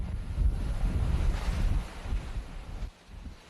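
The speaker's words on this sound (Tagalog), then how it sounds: "Bumuhos ng matinding ulan, pero mas malakas ang hambalos ng hangin." Strong typhoon wind roars and buffets continuously in Batangas, Philippines, mixed with rushing water, heavy rain and surf-like noise, loud and turbulent, easing slightly near the end.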